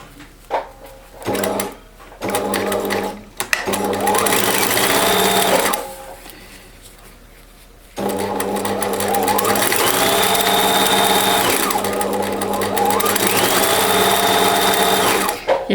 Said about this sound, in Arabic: يعني انا مولفه كنخيط بلا ما كنشد